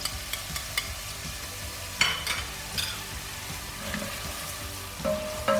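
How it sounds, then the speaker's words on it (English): Garlic, ginger and red chili sauté together in a pan, giving a soft continuous sizzle broken by occasional spoon scrapes and clicks, fairly quiet and close. "I saute them nicely together, so until they are half cooked"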